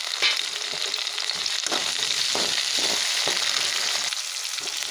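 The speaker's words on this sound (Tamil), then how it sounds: "வெங்காயம் வதங்கிடுச்சு அளவுக்கு இருந்தால் போதும் தக்காளி சேர்த்து வதக்கிக்கலாம்" Tomatoes and onions sautéing in a pan make a continuous close-up sizzle, with occasional soft stirring scrapes and no talking.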